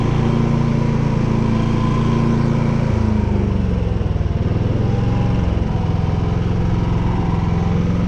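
A Champion XP9000IH portable generator engine runs with the electric throttle and idle control off, a loud, close, steady droning hum whose pitch dips and shifts partway through.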